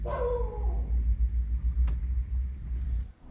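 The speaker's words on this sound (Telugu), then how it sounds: "ఈ ఇంటి బయట ఈ కుక్కలు కూడా నైట్ 9కి అరవడం స్టార్ట్ అయ్యాయి" Dogs outside a house at night let out a brief, drawn-out howling bark at the very start, then fall quiet while a low, steady vehicle rumble carries on underneath.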